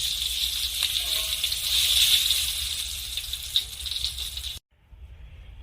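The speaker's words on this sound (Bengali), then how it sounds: "বাকি বেগুন একইভাবে ভেজে নেব।" Brinjal slices sizzle and crackle in hot oil in a kadai, a steady close frying hiss with small pops that cuts off abruptly near the end, leaving only faint quiet sizzle.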